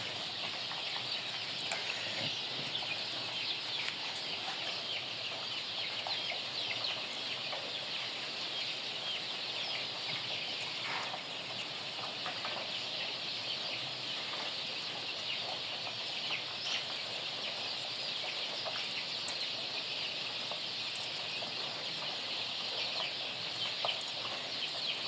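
Young cockerels and a rooster, separated out on a poultry farm, cluck and chatter in a dense, continuous flock din at moderate distance, with no voices standing out.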